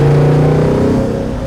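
A restored 1967 Bizzarrini 5300 GT drives with a loud, steady engine drone that holds at a constant pitch with fine firing pulses and rises only slightly. No voices come through.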